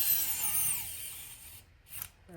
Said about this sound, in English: And I'm screwing in the same place actually.